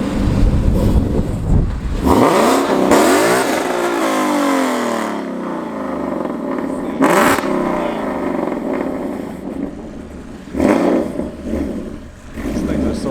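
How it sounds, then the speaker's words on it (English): A loud Ford Mustang 5.0 at a private track, accelerating hard in repeated roaring bursts and rising revs, close and dominant, with people talking at times. "Those Mustangs are loud as hell"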